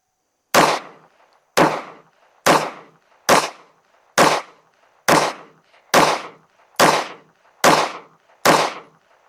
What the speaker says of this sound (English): we're going to shoot a 10-shot group at the bottom right target